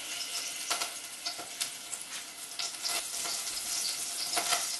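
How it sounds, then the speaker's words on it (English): Lamb shoulder sizzles steadily in hot oil in a frying pan for a Moroccan date tagine, a close, continuous crackle and spatter with occasional louder pops and stirring sounds, no voices. "I'm going to put this in my frying pan and begin to fry the meat"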